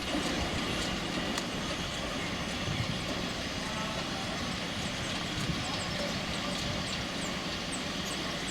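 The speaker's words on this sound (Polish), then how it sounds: "Lokomotywa przestawia się na drugi koniec składu wagonów i wraca tędrem do przodu." Narrow-gauge steam locomotive of the Feistritztalbahn in Austria running with its carriages, a steady rumbling roll with faint rhythmic clatter heard continuously at moderate distance.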